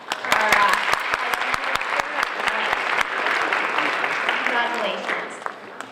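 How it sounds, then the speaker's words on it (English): An audience at an Asian American culture day event breaks into applause, with sharp individual claps standing out near the front over a fuller crowd clapping, easing off toward the end. "Can we give a round of applause for our"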